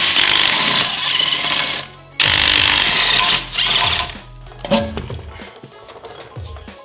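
A Dewalt cordless impact wrench breaks loose lug nuts on a car wheel in two loud, sustained bursts of rapid hammering, then winds down into scattered rattling and clinks of the nuts coming free.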